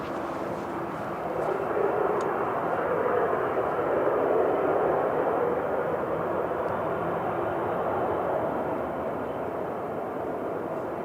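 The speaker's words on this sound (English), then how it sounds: "Next to go though, Etihad Dreamliner." Etihad Boeing 787 Dreamliner taking off at a windy Manchester Airport, a steady, broad jet engine roar that swells early on and then holds at a constant distant-to-mid level, with wind noise and no talking.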